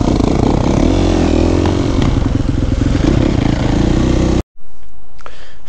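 A 2021 Yamaha YZ450F dirt bike engine runs loud and close with a throbbing, uneven rev that cuts out abruptly near the end, followed by faint clatter and quiet.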